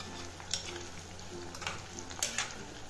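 Cauliflower fries in a pan while a spatula stirs it, giving a soft, steady sizzle broken by a few brief scraping strokes, with no talk.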